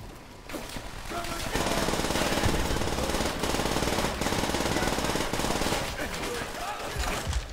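Mosin rifle fire in the Stalingrad fighting of Call of Duty: World at War, heard within a loud, dense barrage of gunfire that rattles almost without pause for several seconds, with sharp cracks standing out.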